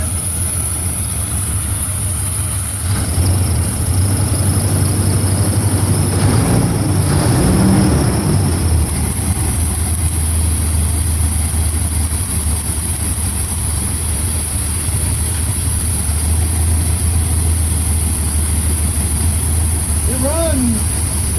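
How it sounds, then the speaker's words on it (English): A 1989 Chevy Suburban, parked for years, idles roughly while someone taps on a sticking injector. A steady low engine drone runs throughout, with a brief louder surge partway through. A voice is heard faintly. "So it's idling as long as he's still tapping on the injector."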